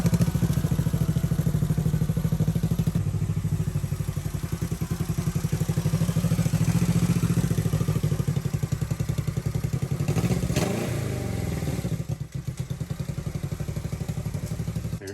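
A vintage Honda CB450 motorcycle engine runs close by with a steady, rapid clattering idle, its even firing pulses holding for most of the stretch before a brief dip and change near the end.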